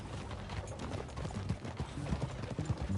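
Horse hooves clip-clop at a steady riding pace in Red Dead Redemption 2, a continuous busy rhythm under a low bed of game ambience.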